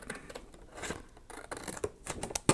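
Close, crisp scissor snips slicing through paper in quick irregular bursts, with a soft rasp between cuts and a sharper snip near the end.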